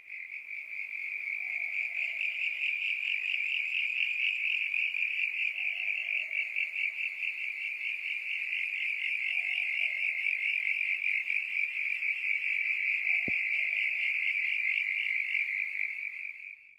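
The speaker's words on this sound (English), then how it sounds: "I recorded this chorus of Ewing's tree frogs." A chorus of Ewing's tree frogs at a river crossing near a campground, a dense, continuous high-pitched trilling pulsing steadily throughout, with occasional lower croaks underneath.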